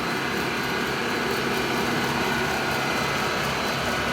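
A rebuilt Eddy Giant huller with serviced motors runs steadily, giving a continuous broadband mechanical whir and hum at even loudness throughout, with no talking.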